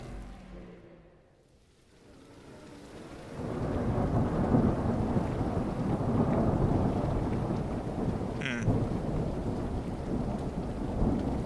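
Video game thunder rumbles low, then steady heavy rain pours down and dense patter keeps going without a break, with one brief sharp click partway through.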